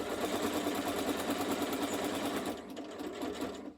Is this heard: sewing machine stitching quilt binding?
yes